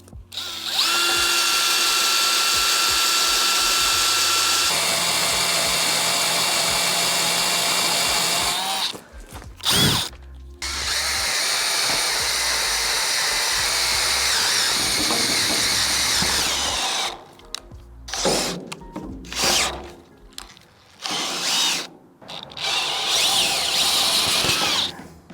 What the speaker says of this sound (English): Now that we got all them holes drilled